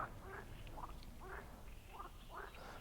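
Frogs croak in a steady series of five or six short calls over a low outdoor hum, moderately distant and quiet.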